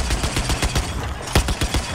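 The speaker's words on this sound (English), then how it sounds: "I'm not the one driving, I'm shooting." Automatic gunfire in the Battlefield 4 single-player campaign, a dense burst of rapid rattling shots with a couple of louder cracks, close and loud, with no talk over it.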